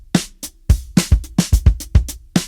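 Uncompressed funk drum groove for a pre-chorus, played from EZdrummer: a loud, punchy stream of kick, snare and hi-hat hits at a steady syncopated pulse, heard alone with no talking.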